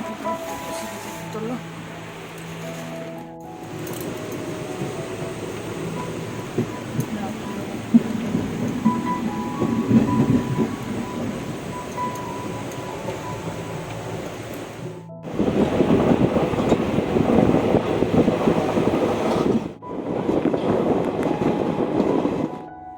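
Interior of a moving train, a continuous rumbling rattle of wheels and carriage, louder in the second half, with brief gaps and voices talking over it.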